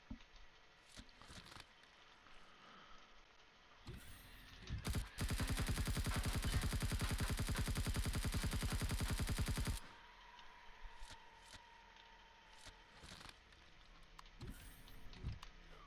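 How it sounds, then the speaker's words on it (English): Rapid burst of explosions and gunfire in a space exploration video game, a dense continuous barrage lasting about five seconds mid-clip, with scattered sharp pops before and after. "Love it when I hear explosions behind me."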